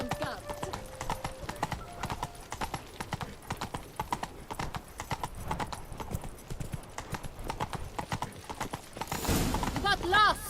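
Geralt's horse Roach from The Witcher 3 trotting along, a steady run of close, crisp hoofbeats throughout, with a rising rush of noise near the end.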